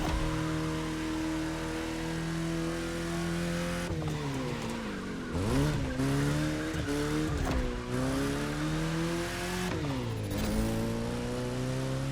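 A race car in The Crew Motorfest, played on a Logitech G27 wheel, revs hard and shifts through gears, engine whine rising and falling with tire squeals, loud and close.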